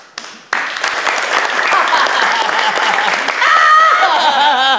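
Loud, dense applause from a crowd right up close, with some laughter and chatter mixed in, continuing for several seconds after a sudden start.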